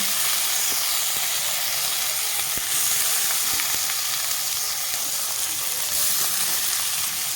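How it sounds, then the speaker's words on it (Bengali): Soaked Gobindobhog rice frying in a pan with cumin seeds and a bay leaf, giving a steady, dense sizzle and hiss throughout with occasional faint stirring clicks. "চালটাকে আমি ভেজে নেব সুন্দর করে"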